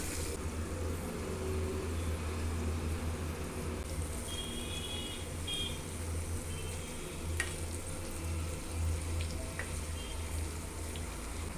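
Potato pieces with capsicum and tomato frying in a pan, a soft continuous sizzle with occasional stirring scrapes and light clicks, fairly quiet and without talk.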